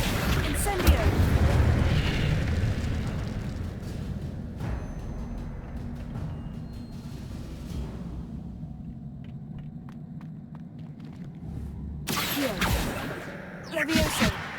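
Spellcasting in Hogwarts Legacy, including the Incendio fire spell, sets off booming, rumbling bursts. A heavy roar opens the stretch and a quieter rumble follows before a sharp new blast near the end. Voices speak throughout.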